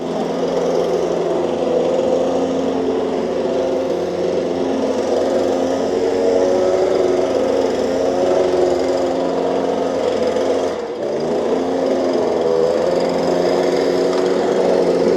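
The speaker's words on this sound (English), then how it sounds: "this is why you need a blower" A petrol leaf blower runs continuously while a gardener tidies up after a job, giving a loud, steady, unbroken engine drone close by with no talking.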